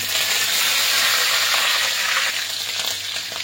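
Curry leaves hit hot oil with a loud, dense sizzle and crackle, a steady hissing spatter close up that eases slightly toward the end.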